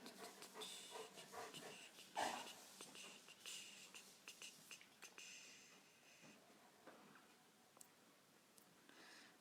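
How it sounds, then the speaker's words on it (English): A dog panting heavily and steadily in a room where clay sculpting is under way, quiet and close, with brief snorts and small rustles mixed in. "If you hear heavy panting, it's my dog"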